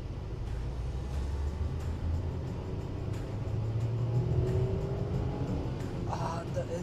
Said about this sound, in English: Engine is very noisy.